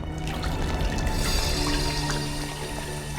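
Water pours and splashes down steadily from above indoors, a continuous mid-level rush with faint dripping, no voices heard.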